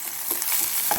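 Half a teaspoon of mustard seeds splutters and crackles in hot ghee in a pan, a steady dense sizzle with quick pops, close and alone.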